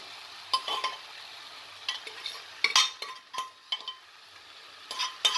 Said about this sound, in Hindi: अब इसको बस ऐसे चला लेंगे